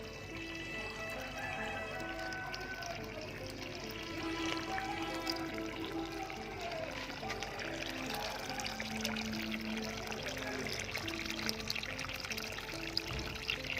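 Water pours steadily into a large compost barrel of fermenting animal manure, a continuous trickling splash at moderate distance that lasts the whole time.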